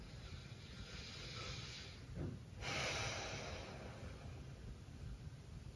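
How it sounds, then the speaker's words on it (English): A big deep breath taken during a guided stretching session, a slow airy inhale that swells and is followed by a longer breathy exhale, close and fairly quiet, with no speech. "Big deep breath here."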